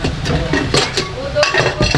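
Stainless steel lids of an outer-lid super pressure cooker set, with a cooker lid and kadhai lids, handled up close, giving repeated metallic clinks and clatters over a steady background.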